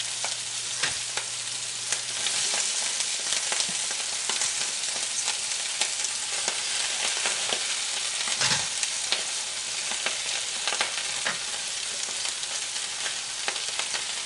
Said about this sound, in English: I'll give it a stir, and then we'll cover this and let it simmer for at least 15 minutes.